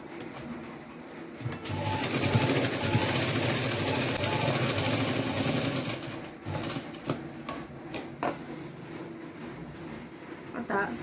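A sewing machine stitching a mini skirt at home, a rapid continuous whirring run of several seconds followed by shorter bursts and clicks, with someone speaking quietly in the background.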